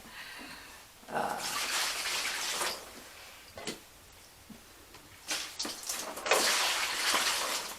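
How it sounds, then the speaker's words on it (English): Irregular water drips and splashes from a leaking ceiling, some louder bursts of splattering, with quiet gaps between them and no talking. "It's still dripping."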